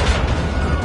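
A rocket-propelled grenade explodes during a Modern Warfare 2 campaign firefight: a loud, sustained blast and roar that fills the whole clip without letting up.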